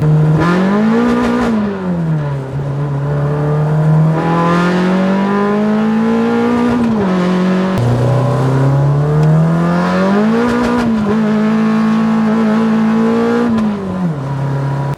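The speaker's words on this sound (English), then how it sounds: "I'll just clutch it and then I'll put the accelerator on again." A Toyota Starlet with a 5E-FE engine on individual throttle bodies running methanol revs hard and loud up close, climbing and falling through several sustained sweeps with a raspy intake howl, no talking.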